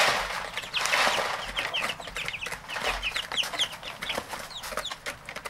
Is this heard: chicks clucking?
yes